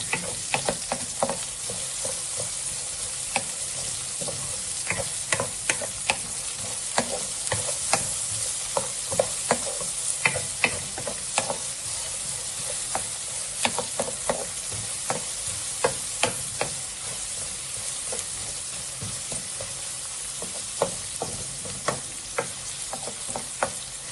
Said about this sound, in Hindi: अब मैं इसमें 2 अदद प्याज शामिल कर रहा हूँ। इन्हें मैं 1 मिनट तक भूनूंगा